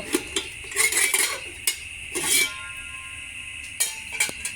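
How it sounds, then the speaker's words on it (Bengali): A metal lid lifted off a pot of steamed egg pudding, brief clinks and scrapes of metal on metal in a few short bursts, close and quiet, with no talking. "আমি এখন ঢাকনাটা উঠিয়ে দেখব।"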